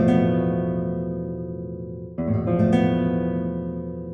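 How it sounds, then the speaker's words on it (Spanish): A flamenco chord rings out on guitar in a lecture on zarzuela, sustaining for about two seconds before being struck again and ringing on, loud and alone with no talk. "Y un acorde flamenco suena así"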